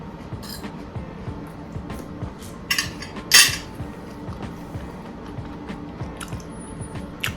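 Cutlery clinking and scraping on a plate while eating callaloo and crispy bammy, with scattered soft taps, a couple of sharper metallic scrapes and faint chewing, close up and without speech.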